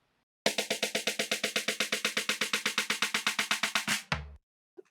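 Rapid drum roll of about thirty evenly spaced hits over four seconds, run through a FabFilter Volcano 3 notch filter whose automated frequency sweeps steadily downward, ending in a short low thud and silence.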